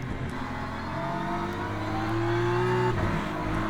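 Ferrari race car in Le Mans Ultimate, a steady engine drone with rising harmonic pitch as it accelerates, a brief dip near the end under braking, close and continuous with no talk.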